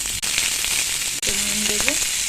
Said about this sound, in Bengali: আমি কড়াইয়ে তেল দিলাম, তারপর কারি পাতা দিলাম, এতে সব সবজি দিয়ে দেবো।